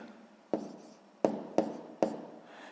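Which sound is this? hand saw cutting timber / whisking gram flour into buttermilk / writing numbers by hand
writing numbers by hand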